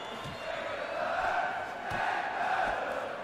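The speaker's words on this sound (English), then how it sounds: "Crowd is going crazy a little bit here." A boxing crowd in the Fight Night Champion video game roars in a continuous swell, rising and falling slightly, with a few dull thuds beneath the steady cheering.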